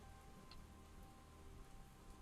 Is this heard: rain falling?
yes